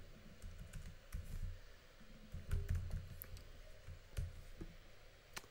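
Fast, uneven clicking of a computer keyboard as code is typed, close and fairly quiet, with small bursts and short pauses and no talking.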